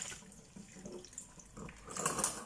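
Running tap water over fresh coriander leaves in a kitchen sink, a soft, steady splashing and trickling that swells slightly toward the end, with no talking.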